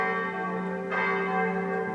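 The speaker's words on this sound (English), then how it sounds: "6 o'clock and the bells are ringing in Siena." Church bells in Siena ringing at six o'clock, loud sustained metallic tones with a fresh strike near the middle, heard alone from a terrace overlooking the city.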